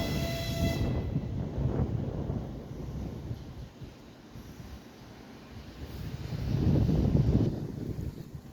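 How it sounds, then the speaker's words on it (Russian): An Ivolga commuter train departs Tushinskaya station heading toward Nakhabino, heard outdoors as a broad rumbling roar under wind noise, a brief tonal whine at the start, then fading before swelling again near the end. "Отправление Иволги со станции Тушинская в сторону Нахабино."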